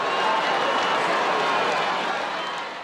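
An enormous, vociferous crowd roars during the Festa dei Ceri candle race through the square in Gubbio, Umbria, a dense, loud, continuous wash of voices that eases slightly toward the end.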